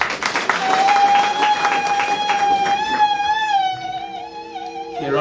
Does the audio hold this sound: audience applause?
yes